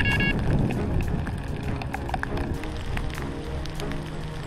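Rain falls steadily during a carp fishing session outdoors, a dense, constant patter of drops on surfaces close by, with no talking.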